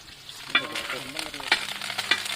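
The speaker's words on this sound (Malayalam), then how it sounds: "ഇനി കറിവേപ്പില ഇട്ട് കൊടുക്കാം" Fresh curry leaves dropped into hot frying oil with ginger and green chillies, a continuous close sizzle punctuated by several sharp crackles and spoon scrapes, no talking.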